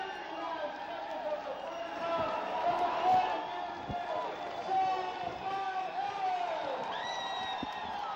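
Boxing crowd reacting after a first-round knockout at a professional debut, scattered cheers and whoops from a distant arena audience beneath a steady commentator voice.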